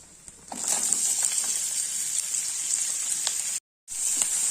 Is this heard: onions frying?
yes